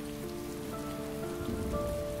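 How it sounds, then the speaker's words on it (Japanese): Rain pours down onto a character in the Heavy Rain video game. A steady, dense patter of rain hitting surfaces runs throughout under a soft tonal music bed, with no talking. "バチバチ雨かかってるぞ、お前。"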